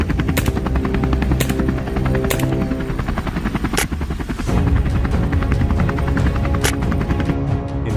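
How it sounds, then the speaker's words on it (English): A helicopter's loud, steady rotor thumping and engine hum close by, with sharp periodic bursts in the high range. "Helicopter noise can disturb wildlife and affect non-target animals."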